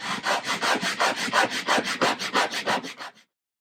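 Rapid back-and-forth sandpaper strokes on a bone nut for a 1953 Gibson L-50 guitar, about fifteen even rasping passes in a steady rhythm, close and fairly loud, then stopping abruptly.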